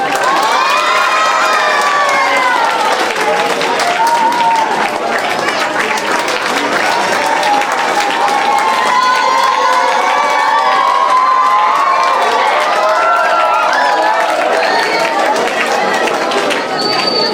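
A crowd at a trophy presentation applauds and cheers loudly and steadily, with shouts and whoops riding over dense clapping throughout.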